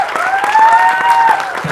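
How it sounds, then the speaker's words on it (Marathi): An audience at a film trailer launch event applauds loudly and steadily, with dense close clapping and a sustained whistle-like tone riding over it. "एकदा जोरदार टाळ्या झाल्या पाहिजे पद्मराज सरांसाठी"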